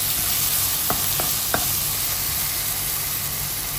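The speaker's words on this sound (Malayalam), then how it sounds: "അതോടൊപ്പം നമ്മൾ എടുത്തു വെച്ചിരിക്കുന്ന ഇഞ്ചിയും വെളുത്തുള്ളിയും അടിച്ചു വെച്ച പേസ്റ്റ് ഇട്ട് പതുക്കെ ഒന്ന് ഇളക്കി കൊടുക്കാം" Ginger-garlic paste and fennel seeds sizzling in a pan make a dense, even hiss up close, with a few quick spoon taps and scrapes as they are stirred, over a faint low hum.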